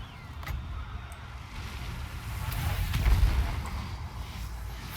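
Artillery bombardment rumbles through a Total War Warhammer 2 battle, deep booms rolling and swelling to a heavier peak midway, with a few sharp distant cracks layered over the constant low roar.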